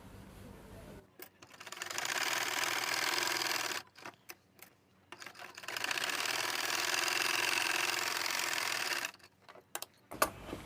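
An electric sewing machine stitches across a pants back pocket in two long continuous runs of rapid, even needle chatter, separated and followed by short pauses with small clicks and fabric handling.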